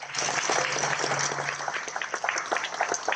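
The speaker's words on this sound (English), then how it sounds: "Give him a round of applause" A breakfast audience gives a short round of applause for a guest, dense clapping that thins into scattered claps toward the end.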